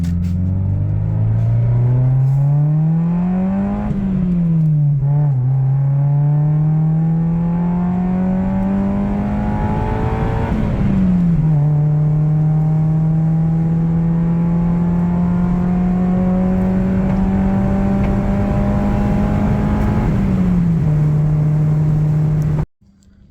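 Exhaust note of a Honda Del Sol under way with the back window down, a loud steady engine drone that rises and falls through several gear changes over a continuous road rumble, no voices.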